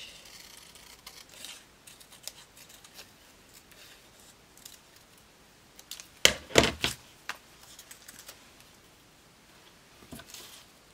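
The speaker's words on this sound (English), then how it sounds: "Let's just cut out this gorgeous image." Scissors cut an image out of a book page for handmade paper tags. Quiet, scattered snips and paper rustles lead into a louder burst of cutting near the middle, followed by a few fainter snips toward the end.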